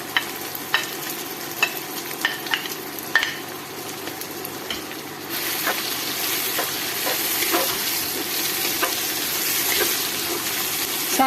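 A steady sizzle of green chili and tomato frying in a pan for whole masoor dal, with scattered stirring clinks, then the sizzle swells louder and denser partway through.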